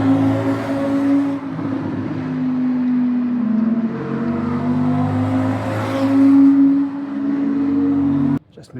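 Several sports car engines, Audi R8s in formation near the Nürburgring Nordschleife, rise and fall as they pass by at a distance one after another, their tones swelling and fading.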